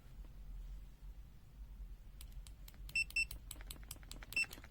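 Continuity test on a BSIDE A1 digital multimeter, three short high-pitched beeps as the probes touch, over faint clicking probe taps and a low background hum, quiet and close.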